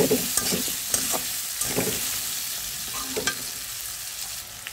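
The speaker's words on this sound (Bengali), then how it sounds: "এখানে আলুটা একটু সুন্দর করে ভেজে নিচ্ছি" Potatoes fry in oil in a pan for a potato and baim fish bhuna, giving a continuous close crackling sizzle with intermittent stirring clatters and scrapes, and no voices.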